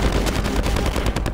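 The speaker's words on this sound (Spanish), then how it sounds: "Echan los balazos bien fuertes, ¿no?" Rapid, loud bursts of automatic gunfire from a Call of Duty match, a dense rattling volley of shots running without pause for over a second, with no talking over it.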